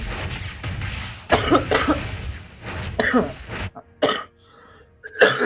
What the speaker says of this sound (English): I'm really sorry for all the cough